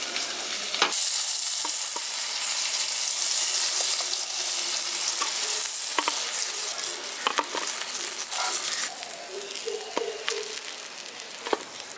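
Carp pieces frying in hot oil give a steady, close sizzle with scattered crackles and pops, and occasional utensil scrapes as the fish is lifted out of the pan.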